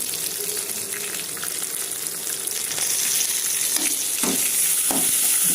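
Curry leaves and onions sizzle steadily in a hot pan for a raw mango coriander rice, with occasional stirring scrapes and a few clinks; the frying is loud, close and continuous with no talk.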